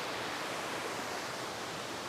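Waterfall at Dividend Falls, Connecticut, a constant broadband rush of falling water, loud and close, with no pauses.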